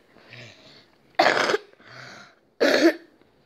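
Two sharp, loud coughs a little over a second apart, each following a softer breathy throat sound, close to the listener with no talking.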